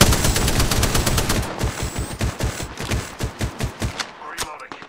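Rapid bursts of gunfire from the video game Apex Legends, dense automatic shots in a fast regular rhythm that thin out toward the end, loud and close, with some faint voices underneath.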